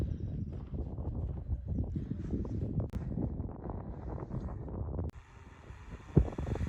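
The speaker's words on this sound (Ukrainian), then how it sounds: "Сильний вітер." Steady wind buffets the microphone in low, rumbling gusts in an open field, with a brief thump and a shift in tone near the end.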